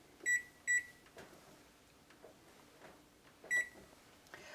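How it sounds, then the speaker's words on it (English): An oven timer beeps sharply three times, two quick beeps close together and a third after a pause, in a quiet kitchen while scones and muffin eggs bake. "and we'll set that timer"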